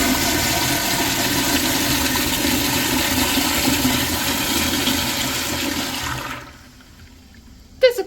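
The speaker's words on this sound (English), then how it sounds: "Now let's have a look at bowl rinse." A Kohler Wellworth flushometer toilet flushes with a loud, steady rush of water rinsing the bowl for several seconds. The rush then cuts off abruptly and leaves a quiet trickle, ending in a short clunk.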